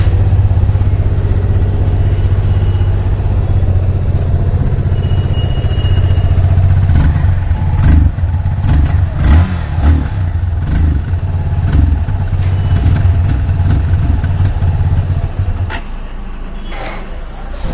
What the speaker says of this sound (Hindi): बाइक को स्टार्ट करके देख लेते हैं और फिर इसके एग्जॉस्ट की बात करते हैं।